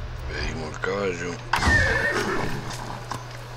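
A horse in the video game Far Cry 6 whinnies loudly up close, followed by a burst of hoof and movement noise, with a low steady hum running underneath.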